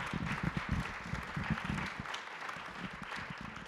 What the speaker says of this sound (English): can give her a round of applause